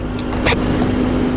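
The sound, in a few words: Hyundai Santa Fe The Prime engine running after start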